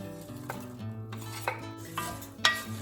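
A spoon stirs rice, onion and garlic through hot oil in a pot for Mexican red rice, with close, light scrapes and clinks about every half second over a faint sizzle.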